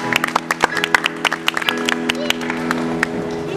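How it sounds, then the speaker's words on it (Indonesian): Audience clapping for a pianist at an evening music performance, a run of sharp, close claps over a sustained musical backdrop, thinning out toward the end. "Berikan tepukannya kemuruh sekali lagi buat pemain piano saya di Musa"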